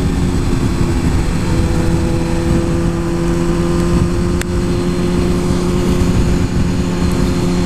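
A Suzuki GSX-R 1000 superbike engine runs at a steady, loud drone with strong low harmonics. It is heard close up and continuously, with no speech over it.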